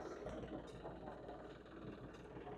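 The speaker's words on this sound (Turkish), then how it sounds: "Osman traktörü sürüyor Osman abi" A steady, low rumbling tractor engine drones continuously at a distance, muffled and even, with no pauses.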